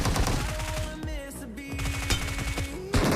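Rapid automatic gunfire from the BGMI battle royale mobile game, a fast run of sharp close-range bursts over a steady in-game tone, with one louder shot near the end.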